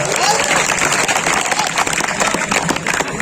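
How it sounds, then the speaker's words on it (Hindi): Audience at an open-air Hindi kavi sammelan (poetry recital) in Pachore applauds: a dense, steady wash of clapping and crowd noise holds at full strength for the whole stretch, with no break or single voice standing out. "ताली बजाओ एक बार जोरदार"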